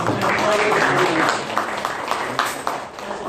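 Applause from an audience at a gathering honouring an elderly association's chairman, a steady wash of clapping over murmuring voices and a few sharper claps.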